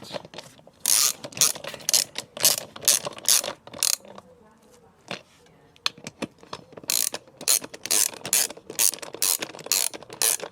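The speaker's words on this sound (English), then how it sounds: "next job is to tighten those four up, so the wheel is a complete unit" Ratchet tightening the wheel nuts on a Lambretta scooter, rapid clicking bursts repeated in quick strokes, close and crisp, with a short pause midway and no clear talk over it.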